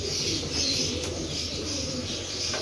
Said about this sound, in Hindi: यह कबूतर देखो माशाल्लाह